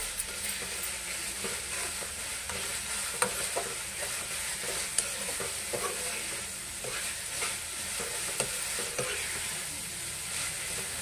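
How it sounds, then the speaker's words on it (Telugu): Chili powder masala stir-fried in oil for mushroom curry, a continuous soft sizzle broken by occasional spoon scrapes and taps against the pan, no talking. "కొంచెం పచ్చి వాసన పోయేదాకా ఫ్రై చేసేద్దాము."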